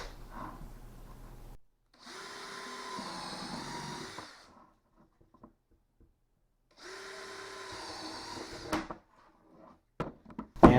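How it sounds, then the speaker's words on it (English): A power drill bores pilot holes in connectors for a DIY cyclonic dust collector, two steady whirring runs of a few seconds each, separated by quiet handling clicks. "I'm going to go ahead and drill a pilot hole in each of these"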